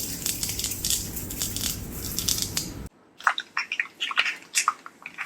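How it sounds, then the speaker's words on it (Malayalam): Crackling pops and sputters, dense at first, then sharper scattered bursts over quieter oil — mustard seeds and dried red chillies spluttering close by in a hot pan. "കടുക് നന്നായിട്ട് പൊട്ടിക്കഴിഞ്ഞു"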